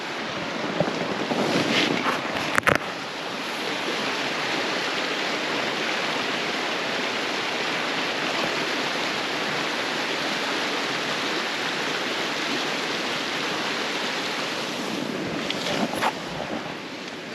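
A river runs beside a campground near Silverton, Colorado, its steady broadband rush continuous and fairly loud throughout, with a couple of brief knocks near the start and a small disturbance near the end.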